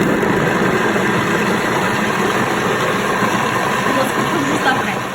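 A Thermomix 6 runs steadily at speed 5 while mixing chocolate muffin batter, giving a continuous motor whir with a low rumble that stays loud and even from start to finish.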